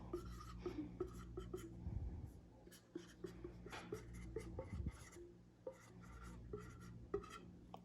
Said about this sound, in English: And then I'm gonna write on here what it is.